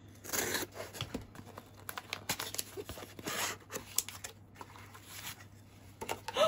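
A UPS cardboard package is cut and torn open with scissors indoors, a close, continuous run of snipping, ripping and crinkling bursts with irregular rhythm and no speech.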